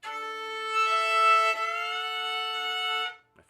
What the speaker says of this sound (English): you can slide in and out of notes